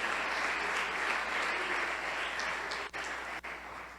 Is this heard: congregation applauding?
yes